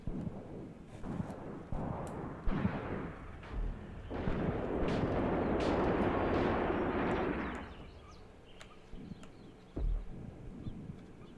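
Deep rumbling booms and scattered sharp bangs in a World War II desert battle video game build into a sustained roar of continuous explosions, then fade back to sporadic distant blasts.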